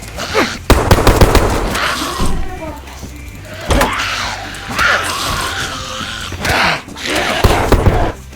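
Bursts of gunfire in DayZ on Namalsk crack over excited, shouting voices, with several sharp shots and rapid volleys scattered through noisy in-game action during a battle for a village.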